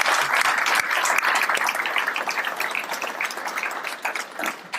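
A crowd at an economic development press conference gives a sustained round of applause, dense and even clapping carrying on for several seconds with no one speaking.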